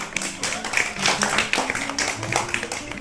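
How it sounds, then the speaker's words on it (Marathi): Children clapping in a classroom as a reward during a Marathi educational word game, a brief scattered round of hand claps with light voices mixed in. "टाळ्या."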